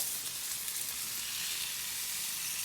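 Steady, close sizzling of ribeye steak searing in a hot pan, a continuous bright crackle and hiss with no talking.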